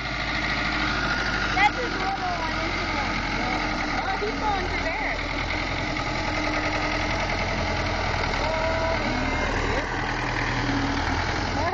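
A small tractor's engine runs steadily at a redneck dock pull, a low continuous rumble heard throughout beneath crowd chatter and nearby voices talking.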